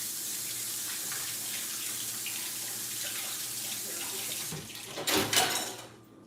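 Tomatoes are washed under a running kitchen tap, with a steady rush of water flowing throughout, then brief louder splashing and handling toward the end before the flow stops.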